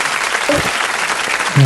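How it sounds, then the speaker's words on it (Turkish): A short, loud burst of applause from a small group indoors, brisk continuous clapping with a voice briefly heard over it at the end. "Aa, alkış bir alkış."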